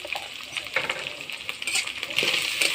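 Crabs with salt and turmeric fry in a pan, giving a continuous hissing sizzle with occasional clinks and scrapes of stirring, close and fairly loud, without speech.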